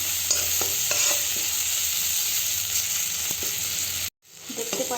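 Tomatoes for an egg curry sizzle and fry in a pan, with a spoon stirring and scraping in short clatters; the frying hiss holds steady until a brief break near the end.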